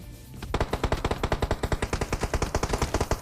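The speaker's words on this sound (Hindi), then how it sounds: "आपको M4 की गनशॉट की आवाज आ गई होगी" Rapid automatic M4 rifle fire from PUBG Mobile Lite rattles off in a fast, even burst of a couple dozen sharp shots, loud and continuous, with no talk.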